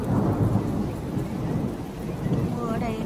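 Heavy rain pours steadily in Germany, heard from shelter in a shop doorway, a dense continuous wash with low thunder rumbling beneath it throughout.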